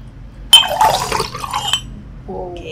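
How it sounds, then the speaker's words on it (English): Ginger jamu juice poured into a glass, a short splashing pour lasting about a second with a faint clink at the end, recorded close with nobody talking. "We'll pour it."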